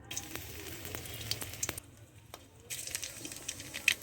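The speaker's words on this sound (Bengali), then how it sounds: "তেলটা গরম হয়ে গেছে, এবার শুকনা মরিচ দিতে হবে। এই যে শুকনা মরিচ দিলাম" Dried red chilies dropped into hot oil for a leafy stalk greens dish give a soft, steady crackling sizzle with brief sharp pops, easing off for a moment before crackling up again; no one talks.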